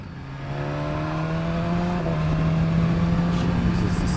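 A new motorbike with a quick shifter pulls away on the road, its engine note rising steadily under load with a smooth, continuous drone and wind noise, close and fairly loud.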